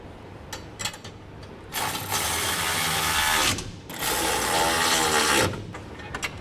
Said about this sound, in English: Now it's time to go through and snug down all of the bolts that hold our center section to our rails.